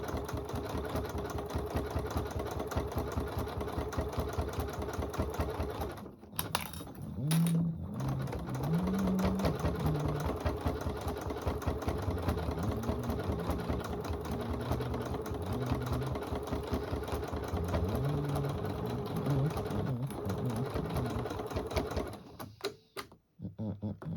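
A sewing machine fitted with a walking foot stitches a poinsettia table runner in a steady, rapid mechanical chatter. It stops briefly twice, then runs on and winds down at the end, close and alone.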